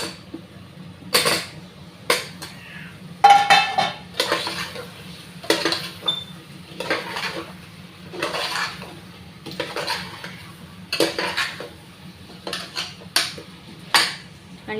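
Potatoes going into fried masala in a cooking pot for a mutton curry, a series of loud clanking metal scrapes and knocks of a spoon against the pot, spaced unevenly over a faint background hum, no talking.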